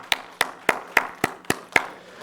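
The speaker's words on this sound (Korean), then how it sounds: "우리 기빈 자매, 우리 제니퍼 자매 들어와 있는데 큰 박수로 격려하기 원합니다." A church congregation claps in unison to encourage members joining online. Seven sharp, evenly spaced claps ring out at a steady quick beat, with nothing else between them.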